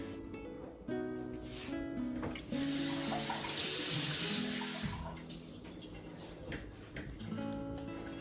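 Water running from a tap for a budget DIY home decor craft using styrofoam balls, a steady splashing flow rising for a few seconds in the middle, with faint clatter and background music around it.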